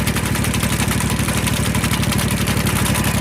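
A John Deere 2210 tractor's V-twin engine running steadily in first gear with a Simplicity sickle mower, a loud, close, even low throb with a fast regular pulse and no change in pace.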